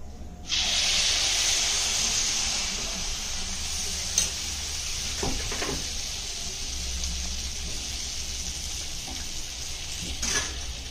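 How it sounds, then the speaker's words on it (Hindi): Malpua batter, made without maida, fries in hot oil with a steady, close hiss and sizzle throughout, plus a few faint clinks and bubbling pops, no voices. "एबे मालपुआ छानिबा। देखंतु तेल हमर गरम हे गलानी। एबे मालपुआ को छाड़ देबा।"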